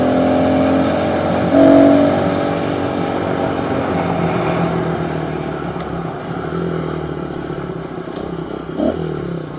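A pit bike engine revs hard during a wheelie, the buzzy motor rising in a sharp burst early then settling into a sustained close drone with rattling clatter and a brief blip near the end.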